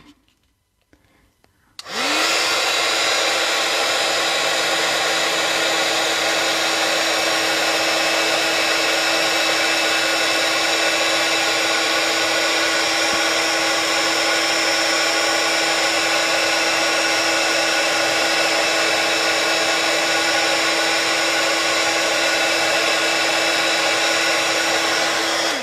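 A heat tool blows steadily to melt embossing powder on a handmade card, a loud, continuous whirring hiss that starts abruptly after a brief quiet moment and runs on unchanged.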